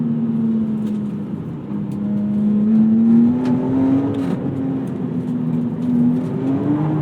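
A modified 2002 BMW M3 E46 with a five-speed swap drives hard, its engine droning steadily and rising and falling in pitch as it revs, loud and close with no talk over it.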